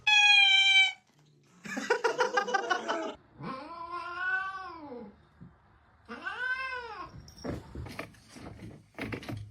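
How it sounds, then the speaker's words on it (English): A cat meows and caterwauls several times, drawn-out wailing calls at close range, alternating with short quieter rustles and a brief voice near the end. "Meowing."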